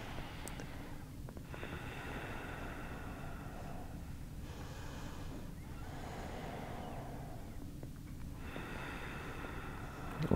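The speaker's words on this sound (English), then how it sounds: "Go ahead and take a nice deep breath in." During a treatment session for cervical disc degeneration, a patient takes slow, deep breaths, each inhale and exhale a soft, rhythmic airy rush. It is close and faint, with several long breaths repeating and no talking.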